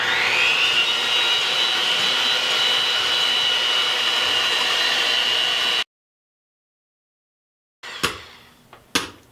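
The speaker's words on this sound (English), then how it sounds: "We beat the fuck out of the egg whites." An electric mixer beats egg whites with sugar for homemade eggnog, giving a loud, steady high whir that cuts off abruptly, followed by silence and then a couple of sharp clatters.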